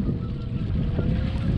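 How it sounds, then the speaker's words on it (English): Wind blows hard across a boat out on open water, a loud, rumbling roar of gusts buffeting the microphone without a break. "I'm glad it's windy."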